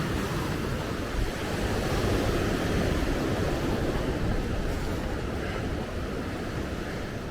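Sea waves surge and break along the rocky Causeway Coast near Ballintoy in August, a loud, continuous roar of surf mixed with buffeting wind noise, with no voices.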